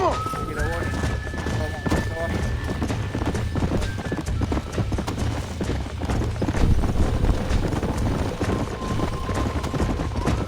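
A horse gallops in Red Dead Redemption, its hooves beating a fast, continuous clip-clop rhythm throughout, with a rider's voice and background game music layered over the pounding.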